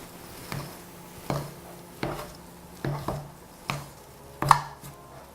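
Thick homemade donut dough being stirred by hand with a spoon in a bowl, giving six sharp, evenly spaced knocks and scrapes, close and fairly quiet with a soft background hum.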